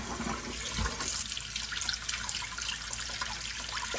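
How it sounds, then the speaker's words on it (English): Cold tap water runs and splashes over raw beef short ribs in a sink, rinsing off bone dust in a soft, continuous trickle at close range for a few seconds. "So wash off the bone dust with cold water."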